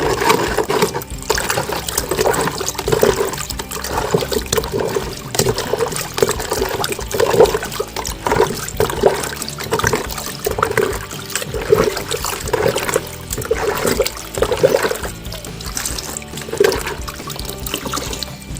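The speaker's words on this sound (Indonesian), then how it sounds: "kita aduk-aduk sampai kedua bahan tadi larut" Fertilizer solution stirred by hand in a container of water, a continuous close sloshing and trickling churn with rhythmic swirls, no voices.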